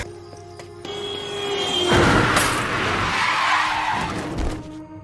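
Film sound effect of a car skidding and then hitting a man, a loud tire screech swelling into a harsh crash with a shatter burst, over a film soundtrack.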